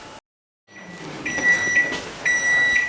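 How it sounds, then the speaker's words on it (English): A nearly 1000-watt kitchen microwave beeps when it finishes, a few clear high-pitched beeps close by after a short silence and a door-like clunk, over low room noise. "Beep, beep, beep, lovely sound."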